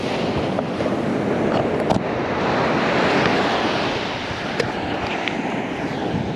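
Surf waves wash steadily onto a beach during surf fishing, a continuous broad roar with gentle swells and some wind buffeting the microphone, no voices.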